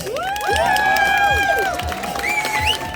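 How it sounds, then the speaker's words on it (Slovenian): A pub crowd at a band meet and greet claps and cheers loudly, with high whoops and shouted voices rising over steady applause throughout. "Dajmo en spodbuden aplavz za začetek."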